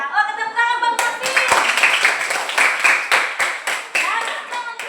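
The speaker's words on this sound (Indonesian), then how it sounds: "Oh, tepuk tangan Bang Marvin." Classmates clap for a student in a classroom, a brief burst of irregular hand claps mixed with children's voices and chatter, the clapping fairly close and lively for several seconds.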